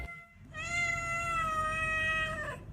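A cat in Thailand gives one long, clear, drawn-out meow up close, rising and holding steady before it fades, with no talking over it.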